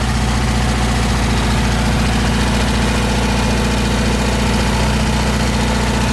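A VW Beetle engine with a Weber 34 ICT carburetor idles steadily and loudly at close range, a continuous rumbling drone with a fast, even pulse and no voices.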